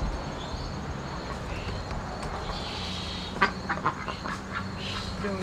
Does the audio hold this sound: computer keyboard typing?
no